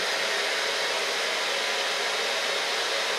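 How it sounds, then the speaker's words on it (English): A hair dryer fitted with a diffuser drying wet curly hair, blowing as a loud, steady, close whoosh that runs without a break and with no talking. "You can lay the wet hair into the diffuser"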